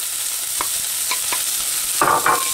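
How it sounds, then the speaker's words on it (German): Carrots and onions sizzle in hot oil in a pan, a constant hiss broken by a few brief scraping stirs near the end. "Wenn das Öl dann schön heiß ist, gebe ich die Möhrchen und die Zwiebeln dazu"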